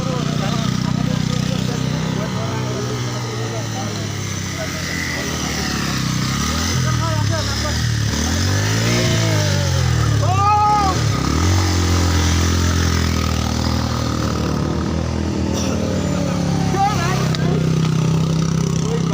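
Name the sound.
motorcycle engine revving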